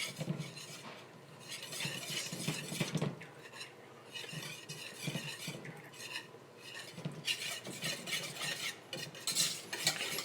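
Pumpkin puree being cooked and stirred in a pot, with a utensil scraping and clinking against the metal in repeated strokes, close and fairly quiet, with no talk.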